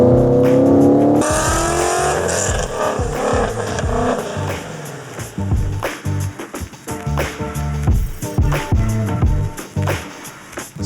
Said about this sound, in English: Stainless Works is excited to announce headers and exhausts for the Ford Mustang GT350.